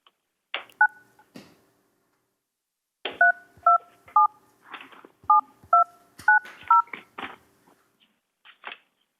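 Telephone keypad tones dial out during a council committee meeting to connect a remote caller: a short burst of beeps, a pause, then a rapid string of evenly spaced dual-tone beeps with faint clicks between them.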